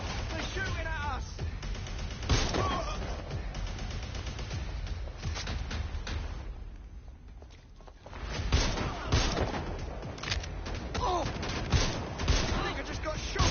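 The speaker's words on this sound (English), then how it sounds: "They're shooting at us!" Enemies open fire in the video game Watch Dogs Legion, sustained volleys of gunshots and rapid bursts crackling loud and continuous over a busy game soundscape, with a brief lull midway before the shooting picks up again.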